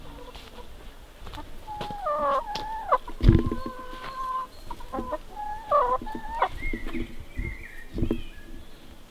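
Hens in a backyard permaculture chicken coop clucking and cackling close by, a busy run of overlapping calls with one sharp thump partway through.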